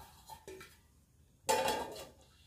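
A metal lid clatters onto an appam pan, opening with a couple of light clinks before a sharp, bright ring about midway that fades out, in a quiet kitchen with no voices.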